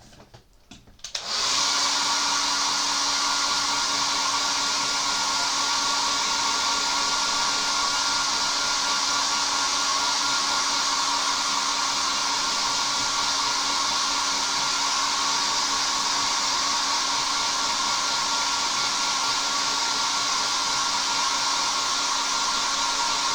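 A hair dryer switches on and runs at a steady, loud whine and rush of air for over twenty seconds, drying brushed-on paint on a 1/72 Zvezda Kamov Ka-50 model helicopter, with no talking.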